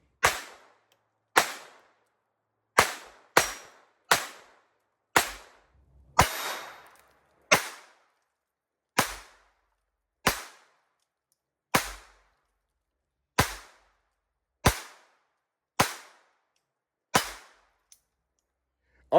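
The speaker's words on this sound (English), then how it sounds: "I'm going to be shooting at my steel targets here." Beretta Bobcat .22LR pistol fired at steel targets outdoors: about fifteen sharp, crisp cracks spaced roughly a second apart, some in quicker pairs, each short and loud with a brief tail, no talk.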